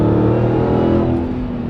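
A Dodge Hellcat Redeye engine roars under full throttle, a loud, close, harmonic-rich drone that holds steady and eases slightly toward the end.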